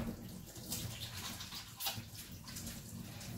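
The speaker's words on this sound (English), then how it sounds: "we go and wash our hands and get rid of the butter" Water runs steadily from a tap while hands are rinsed clean of butter after butter making, a continuous close splashing hiss with small splattery bursts.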